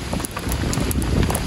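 Rain falls steadily on an open field around an outdoor cooking fire with rice cooking over it, a dense close patter and crackle with no talk.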